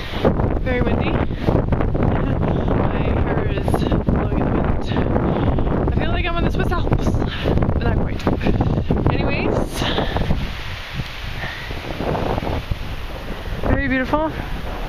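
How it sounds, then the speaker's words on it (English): Strong wind buffeting the microphone high on a mountain near waterfalls, a loud continuous rushing that runs under people talking throughout. "it's quite windy up here, as you can tell"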